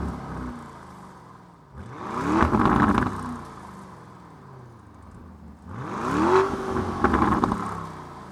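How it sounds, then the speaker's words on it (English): Two loud bursts of engine and exhaust noise from a 2019 Lamborghini Urus SSUV with its active exhaust set to Corsa track mode, each rising into a rev and then falling away, with a quieter idle in between. "The exhaust is active, so it's louder when you go into Corsa track mode."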